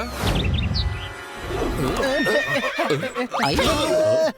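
A cartoon horse lets out a loud, close whinny that rises and wavers for several seconds, with rapid warbling neighs toward the end.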